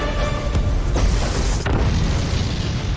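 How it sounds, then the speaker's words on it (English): Big explosions from a Final Fantasy XVI video game trailer roll out as a loud, dense, continuous low rumble with a few sharp bursts, filling the whole stretch with no talk. "Big explosions, we love big explosions."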